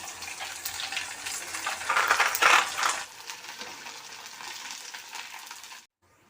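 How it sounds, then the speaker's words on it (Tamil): Oil crackles and sizzles loudly as sun-dried rice crisps fry in a pan, with a burst of bubbling and stirring before it settles into a softer hiss and stops. "அந்த வத்தல் போட்டு பொரிக்கிறோம்."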